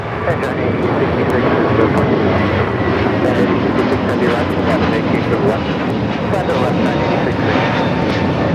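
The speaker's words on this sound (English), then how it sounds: "This is United Airlines 2487 taking off to Chicago on the A321neo." A United Airlines Airbus A321neo departing LAX for Chicago, a loud, sustained broadband jet roar close by, steady for the whole span with brief clicks layered over it.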